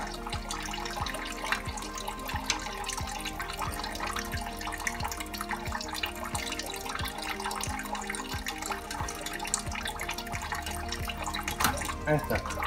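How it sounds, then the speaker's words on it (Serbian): Coolant water draining steadily from an IMT tractor's cooling system during water pump removal, a continuous trickling, splashing flow close by with faint clinks of work. "Ali sačekat ću još voda da izađe, pa tek onda."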